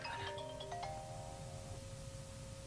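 A phone ringtone chimes in a short melodic pattern over a steady background hum, playing on without any voices.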